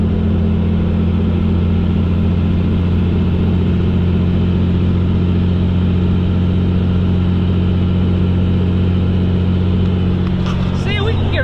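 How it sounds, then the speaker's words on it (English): A hotshot flatbed pickup's engine drones steadily inside the cab and builds as the throttle is pressed, a loud low hum with a voice talking over it throughout. "the second we hit the throttle, let's see if we can hit 190"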